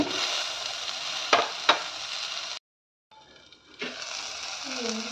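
Tomatoes tipped into a hot frying pan and stirred, bursts of sizzling with a couple of sharp scraping clicks, a brief silent gap, then sizzling resumes under a faint voice.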